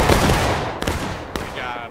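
A musket volley in the War of Rights video game: a dense crackle of many shots at the start, followed by scattered single reports as the noise tails off.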